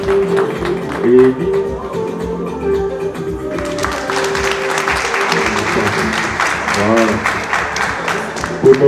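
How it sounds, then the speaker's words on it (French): An audience at a graduation ceremony for new baccalaureate holders bursts into sustained applause partway through, following amplified announcements, with a voice speaking over the clapping. "L'Héliosport, on applaudit des forts juste là-bas."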